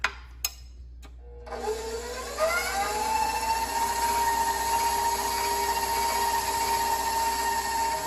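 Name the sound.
electric mixer beating batter in a bowl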